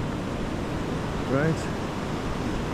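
Ocean waves at Uvita, Costa Rica, a steady broadband wash of surf close by, with a brief spoken word rising over the roar midway.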